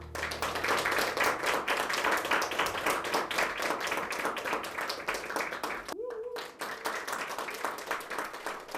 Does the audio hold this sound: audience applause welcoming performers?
yes